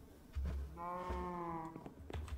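Cows in the video game Minecraft give a drawn-out, tonal moo that rises and falls, with soft footsteps and clicks before and after, at moderate volume.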